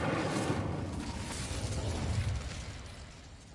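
Casting the Incendio fire spell in Hogwarts Legacy releases a loud roaring whoosh of flame that rushes out at full strength, then thins and fades over a few seconds.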